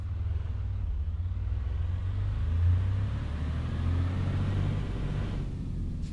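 A modded truck engine in American Truck Simulator gives a steady, loud low rumble that holds nearly constant throughout, with a slight swell midway.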